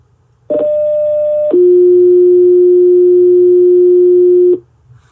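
Two steady electronic radio dispatch paging tones in sequence, a short higher tone followed by a longer lower one, loud and clear over faint background hum.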